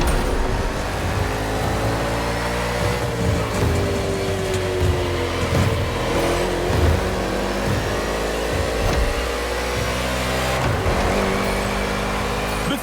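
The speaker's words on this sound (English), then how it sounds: "The green flag is in the air, and we are racing in a purely urban race here in Hawaii" NASCAR race cars racing on an urban street circuit in Honolulu, Hawaii, in the game The Crew Motorfest: a continuous, loud roar of engines with shifting pitch as the cars rev and change gear.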